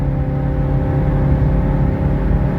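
A 1985 Mercedes 300SD diesel pulls hard uphill on an interstate after a kick-down, a steady loud low engine drone with road and wind roar heard from inside the cabin, holding constant throughout.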